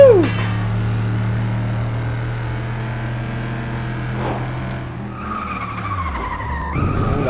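A car in the racing game Flatout 2 brakes hard and skids, loud tire squeal sweeping over a steady engine drone, with the engine note dropping and another screech near the end.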